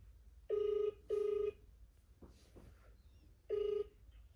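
A phone rings with repeated electronic tones: two short bursts close together, a pause with faint background sound, then a third burst, clear and fairly loud.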